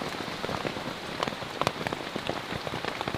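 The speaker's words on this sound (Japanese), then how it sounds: "7日間で3日は雨。 もっと乾いてると思ったのに雨多すぎじゃないか。" Heavy rain pours in the Borneo jungle, a dense steady hiss of drops striking leaves and surfaces with scattered louder individual spatters, close and continuous throughout.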